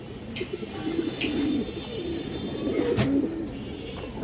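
A female pigeon coos softly nearby, repeating low, throaty rolling calls over a murmur of background noise.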